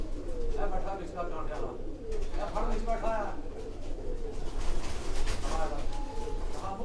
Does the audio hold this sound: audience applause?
no